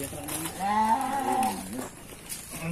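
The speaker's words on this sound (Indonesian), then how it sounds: "di sini juga masih ada kandang embe, domba, kambing" A goat or sheep in a pen near Ciroyom waterfall, Cianjur, Indonesia, lets out a wavering bleat close by, with people talking and other goats and sheep around it.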